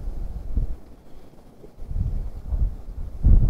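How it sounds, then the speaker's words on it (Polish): Gusty wind buffets the microphone in low, rumbling surges that rise and fall, growing strongest at the very end. "Zerwał się dosyć silny wiatr."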